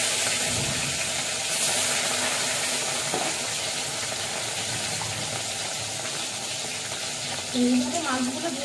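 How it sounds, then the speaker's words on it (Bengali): Fish sizzling in hot oil in a home kitchen, a steady close crackle and hiss throughout with occasional spatters and utensil clinks. "এইভাবে মাছগুলো ভেজে নিয়ে আসছি।"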